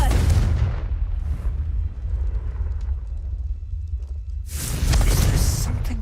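A Confringo blasting spell explosion in the game Hogwarts Legacy, a loud rumbling blast at the start that settles into low crackling debris, then a second heavy burst near the end, with no speech over it.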